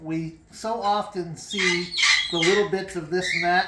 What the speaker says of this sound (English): I apologize for my birds in the background.